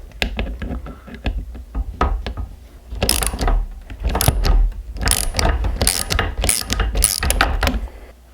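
A wrench clicks and ratchets as it undoes a nut on a machined aluminum motorcycle lever for a BMW F800GS or Scrambler, close up, with quiet taps first and then a denser run of metallic clicks.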